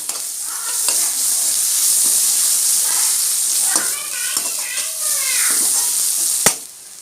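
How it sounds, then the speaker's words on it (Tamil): Ginger garlic paste sizzling and frying with onions in a pan for a Tamil-style egg curry, a steady close hiss with stirring scrapes and a sharp clatter near the end. "இப்போ இஞ்சி பூண்டு பேஸ்ட்டு போட்டு நல்லா வதக்க விட்டுக்கலாம்"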